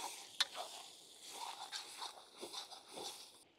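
Onion-tomato masala with green chilli being stirred and fried in a pot while cooking a padwal rassa bhaji for 100 people, a steady sizzle under scraping spoon strokes with a sharp clink near the start.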